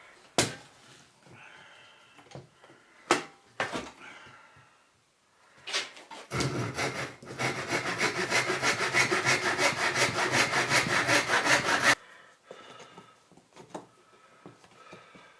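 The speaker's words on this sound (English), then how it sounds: "So I'm cutting two pieces of wood that will go into the sole of the shoe" A hand saw cuts pieces of wood for a shoe sole: a few isolated knocks and scrapes, then a loud, close burst of rapid back-and-forth sawing strokes lasting several seconds before stopping into quieter handling sounds.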